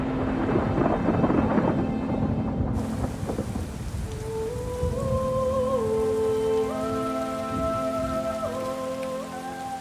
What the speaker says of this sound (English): It cools and condenses to form clouds, and finally, rain.